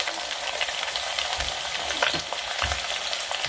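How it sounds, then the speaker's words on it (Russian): Meat frying in a pot for plov, a loud close sizzle with steady crackling spatter and occasional stirring thumps, no voices. "Пускай зажаривается мясо."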